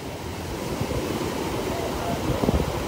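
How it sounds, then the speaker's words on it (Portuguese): Ocean surf at Praia Brava beach in Itajaí breaks in a continuous loud wash of waves, with onshore wind buffeting the microphone and a few heavier surges near the end. "Praia Brava quebra aí com séries de meio metrinho, com outras séries melhores"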